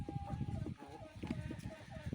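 Free-ranging chickens in a yard on a warm spring day cluck softly and continuously, a faint, busy chatter of several birds heard from a short distance.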